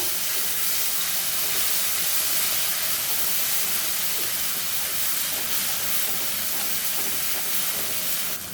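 Turmeric and mustard paste fry in hot oil in a pan used for hilsa, a dense, steady sizzling hiss, loud and close, continuing throughout with no voices.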